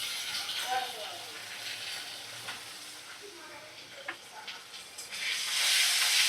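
Masala with chopped tomato and a spoonful of yogurt fries over a medium flame for egg biryani, giving a continuous hissing sizzle with occasional stirring scrapes, while a voice speaks softly underneath.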